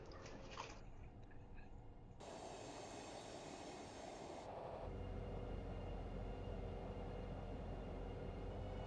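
An ÖBB 1016 locomotive runs in Train Simulator Classic on the Arlbergbahn between Bludenz and Landeck-Zams, a steady, quiet rolling rumble of rail travel that grows slightly louder and lower midway, with no talk.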